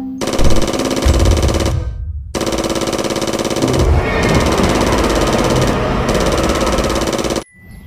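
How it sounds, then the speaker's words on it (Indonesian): Rapid shotgun fire in a dinosaur video game, a loud, dense burst of repeated blasts that stops briefly and then resumes as a sustained mechanical rattle, close and continuous. "tembakan shotgun warna loreng"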